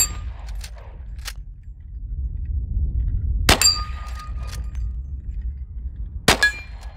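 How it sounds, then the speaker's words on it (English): Gunshots ring steel shooting target plates, a few sharp metallic clangs spaced several seconds apart, each with a brief ringing tail over low background rumble, plus fainter distant pings. "But I am ringing steel."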